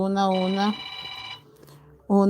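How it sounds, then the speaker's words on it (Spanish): An old landline-style telephone ringing in a home, two loud electronic bursts of ringing with a quieter gap between them. "Parece cuando en las casas estaba teléfono fijo. Así sonó ese teléfono."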